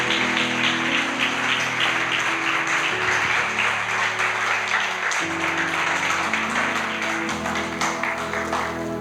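Church congregation applauding and cheering in praise of the Lord, dense continuous clapping with voices crying out throughout, loud and close.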